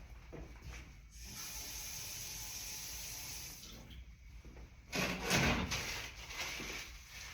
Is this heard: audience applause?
no